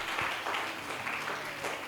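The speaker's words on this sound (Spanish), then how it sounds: "Dale fuertes palmas de alabanza a Jesús." Congregation in a church service clapping in praise, a soft, somewhat distant patter of many hands in loose rhythm, brief and moderately quiet.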